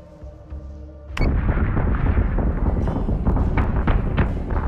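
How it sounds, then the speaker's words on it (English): Missiles launching in the space combat game Battlestar Galactica Deadlock: a sharp blast followed by a sustained, dense rumble of rocket fire and bursts, loud and close, with no voices. "fire the missiles backwards"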